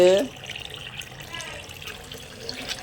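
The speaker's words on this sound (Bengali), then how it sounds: "কি সুন্দর ভাই ছুঁড়ে মারে মুখ দিয়ে জল" A child forcefully spits a mouthful of water out, producing a brief watery splash near the start, then soft liquid and background noise with faint voices around.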